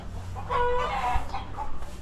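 Chickens clucking close by, a few drawn-out calls over a low background rumble.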